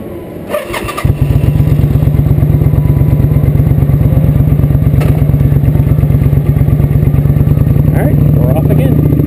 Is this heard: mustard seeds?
no